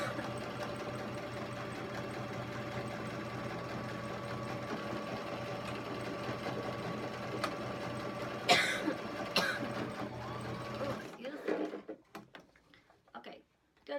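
A sewing machine stitches trim onto a canvas bag in a steady fast whirring run that stops near the end, followed by faint handling clicks and a cough.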